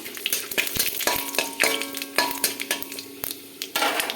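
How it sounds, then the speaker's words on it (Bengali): Bay leaf and panch phoron crackle and sizzle in hot oil in a Bengali home kitchen, with a spoon stirring and clinking against the pan in irregular taps over a steady fry. "ফোড়ন দিয়ে দেবো তেজপাতা, পাঁচ ফোড়ন একটু নেড়ে দেবো।"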